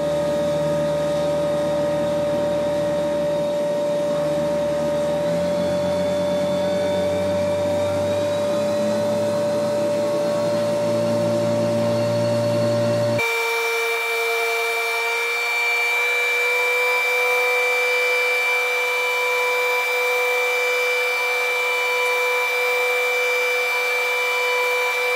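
A Tormach CNC mill deburring holes in a 6061 aluminium brake caliper bracket, a loud continuous whine of spindle and cutting with steady tones that shift abruptly partway through, with no voices.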